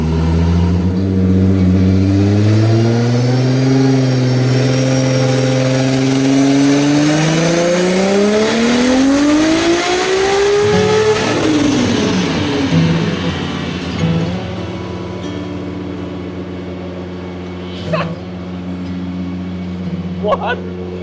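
An S14.9 engine roars through a full-power dyno pull, loud and rising steadily in pitch, then falls back as the pull ends, leaving a lower idle with brief blips.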